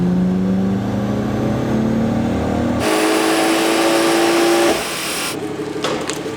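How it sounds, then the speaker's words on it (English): BMW 440i under full-throttle acceleration, engine note climbing steadily in pitch through the revs, then a sharp gear change and renewed pull, heard loudly from inside the cabin with no talking. "Can you put your foot all the way to the floor this time, Jordan, please, mate"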